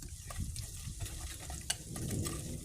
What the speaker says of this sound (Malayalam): ഇഞ്ചിയും വെളുത്തുള്ളിയൊക്കെ മൂത്ത് വന്നിട്ടുണ്ട്.